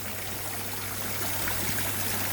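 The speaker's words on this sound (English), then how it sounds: "waterfall's coming on" A garden pond waterfall runs with a steady, dense rush and trickle of falling water, close and continuous, with a faint low pump hum beneath and no voices.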